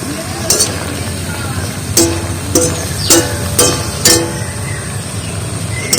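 Boiled fig vegetables fry dry in a pan with a low sizzle, punctuated by several sharp clinks and scrapes of a utensil stirring against the pan at regular intervals.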